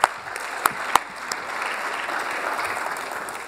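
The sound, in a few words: audience applause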